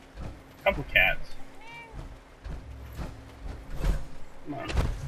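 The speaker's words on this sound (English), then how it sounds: "A couple cats." A couple of cats meowing in the video game Fallout 4 Far Harbor, a few short meows scattered among game sounds while a person talks.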